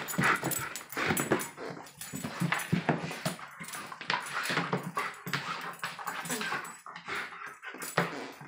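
Dog eager to go to the dog park, whimpering and yipping near the microphone in repeated high-pitched bursts over a few seconds, restless and insistent.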